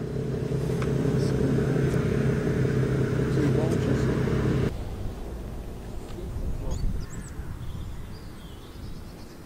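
Toyota Celica and a red Toyota Supra pass at a car meet, a loud steady engine rumble that cuts off sharply midway, leaving fainter traffic noise and birdsong.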